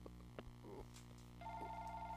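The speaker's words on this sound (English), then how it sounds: "Oops, sorry about that phone." A telephone rings faintly in a lecture room, its electronic ringtone warbling in short bursts over a low background hum.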